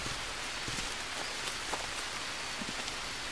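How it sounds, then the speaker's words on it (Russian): Rain in the jungle survival game Green Hell, a constant dense hiss of falling water with faint scattered drops landing close by, steady and uninterrupted with no speech. "Дожди идут без остановки."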